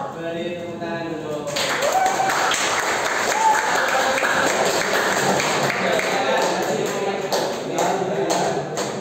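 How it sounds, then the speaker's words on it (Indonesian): Classroom of students applauding on a teacher's cue, a burst of lively clapping that starts abruptly after a brief voice and carries on steadily at close range, with scattered sharper claps throughout. "Beri tepuk tangan dulu."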